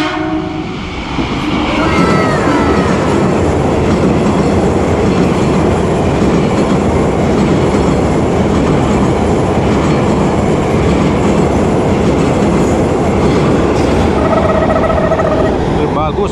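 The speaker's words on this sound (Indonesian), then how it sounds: "Yuk kita lihat nih, keretanya mendekat. TM 6000." An Indonesian commuter electric train of the TM 6000 series approaches on the line, a loud, steady rumble of wheels and motors filling the whole stretch, with a brief horn-like tone near the end.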